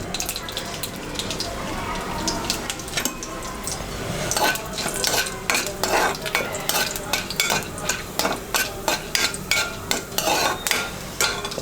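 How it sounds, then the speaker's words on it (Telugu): Chana dal frying in hot oil in a pan for a drumstick masala curry, with steady sizzling and repeated scraping, clinking stir strokes, close and loud throughout. "ఈ ఆయిల్ కాగిన తర్వాత పచ్చిశనగపప్పు వేసుకోవాలి."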